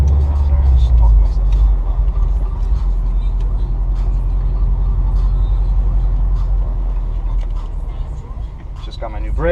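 A 2012 Subaru Impreza WRX Stage 2 on a test drive, its engine a loud, close, continuous low rumble with road noise that holds steady and then eases slightly near the end.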